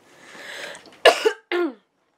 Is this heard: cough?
yes